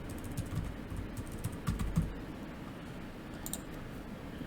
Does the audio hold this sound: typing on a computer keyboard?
yes